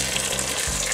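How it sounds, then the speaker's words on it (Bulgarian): Water gushes steadily into a pot of vegetables for a light summer zucchini cream soup, a close, continuous rushing pour with no talking. "Заливаме с 2 литра вода."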